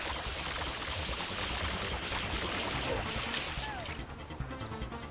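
Water spraying in the Super Mario Sunshine video game, a loud, steady broadband rush with crashing splashes running throughout, easing slightly near the end.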